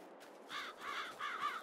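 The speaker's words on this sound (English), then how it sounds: "Get out of here, crows." Crows cawing in the Farming Simulator 22 video game, four harsh caws in quick succession, fairly faint and without talk.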